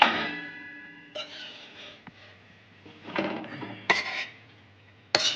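Sticky jaggery-coated chalta pickle being scraped and poured from a pan, with a ringing metallic tone that fades, then several clanks and scrapes of utensils against metal, close and moderately loud, no speech.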